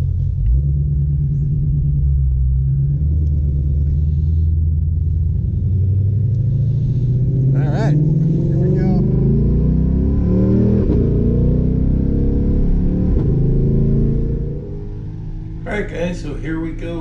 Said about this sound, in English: here we go for our first real good full speed laps in the GT500